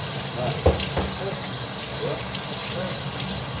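Water splashes and sloshes over raw meat being washed for Arabian kabsa rice, a steady wet rinsing noise with a brief knock, while a voice talks over it.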